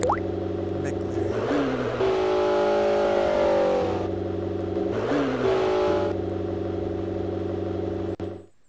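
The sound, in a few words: McLaren car engine in video game Garry's Mod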